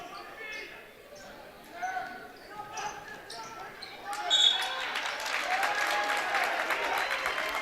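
Crowd in a gym at a high school boys' basketball tournament game, a steady murmur that swells into loud cheering and applause, with squeaks and bounces on the court and commentators talking over it.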